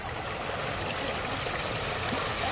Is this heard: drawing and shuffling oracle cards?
no